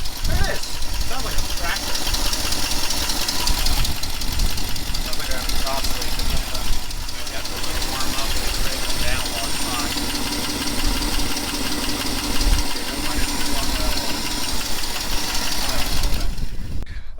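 A 1967 Ford F250 truck engine, freshly installed, idles with a rough, steady knocking rumble that carries on throughout. People talk over it at times.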